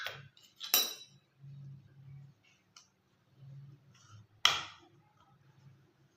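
Ginger and fennel powder stirred together in a bowl while making modak, the spoon giving soft scraping and a few sharp clinks against the rim, irregular and close in a quiet kitchen.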